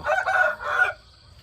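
A rooster crows once nearby in rural Thai countryside, a loud drawn-out call lasting about a second, then fading into quiet background.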